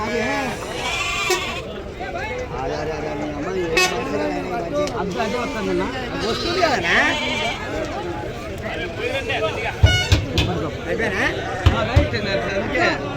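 Sheep bleat repeatedly amid a busy crowd of voices at a livestock market in Pebbair, with people talking throughout and occasional knocks and a horn-like blare in the background.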